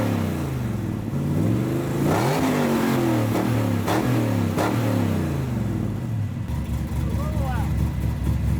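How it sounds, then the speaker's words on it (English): Car engine with an unbaffled exhaust revving up and down repeatedly, loud and raw with rising and falling pitch sweeps, while people talk over it. "it's illegal to run an exhaust without baffles in Ontario."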